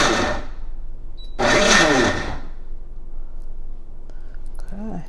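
A food processor pulses cauliflower in short bursts: one brief burst, a pause, then a longer whirring pulse, close and fairly loud, followed by quieter kitchen sounds.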